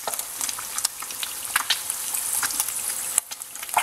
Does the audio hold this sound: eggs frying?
yes